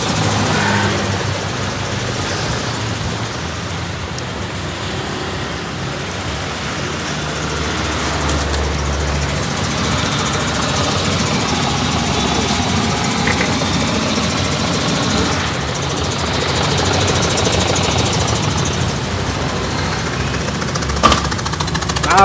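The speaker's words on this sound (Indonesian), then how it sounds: "Knalpotnya bocor. Bocornya parah, bos." Mercedes-Benz Tiger car engine idling with a badly leaking exhaust, a loud continuous rough rumble with a raspy, chuffing hiss, steady throughout, a brief click near the end.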